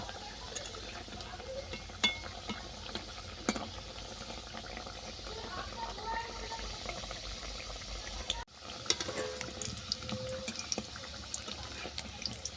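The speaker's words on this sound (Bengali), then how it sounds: "এরপর পুরিগুলো আমি ভেজে নেব।" Stuffed puris fry in hot oil with a soft, continuous bubbling sizzle. A brief clatter and a short break in the sound come near the middle, then the frying carries on.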